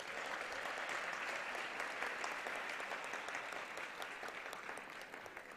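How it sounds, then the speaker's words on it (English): Applause for doctorate in medicine graduates at a university convocation, a steady, even roar of many hands from a large hall, quiet and distant in level but unbroken throughout, with no speech over it. "A big round of applause for all our doctorate in medicine."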